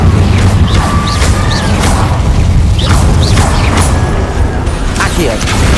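The Incendio fire spell in the video game Hogwarts Legacy, with dull booming bursts and whooshes amid continuous loud combat noise, under a speaking voice.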